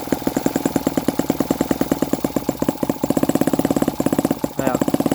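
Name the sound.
world's smallest four-stroke engine running at low rpm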